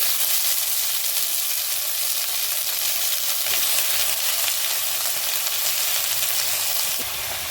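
Oil heats in a kadhai on a gas stove, giving a continuous, fairly loud sizzling hiss that stays even throughout.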